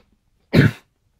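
A single short, sharp cough bursts out close up in a quiet room, lasting only a fraction of a second and heard alone.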